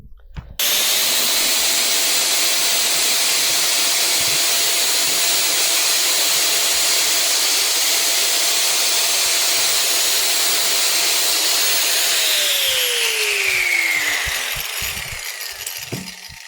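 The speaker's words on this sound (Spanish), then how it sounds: "dándole con la radial despacito" An angle grinder with a diamond blade whines steadily at high speed, loud and close, cutting slowly into stone, then spins down near the end as the pitch drops.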